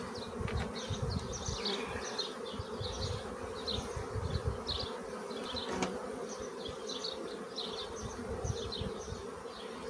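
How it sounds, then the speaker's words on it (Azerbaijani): Honeybees fill an open beehive, including its wooden divider board and comb-built frames, with a dense, continuous close-up buzz that holds steady throughout. "Arakəsmə taxtasında da arı var."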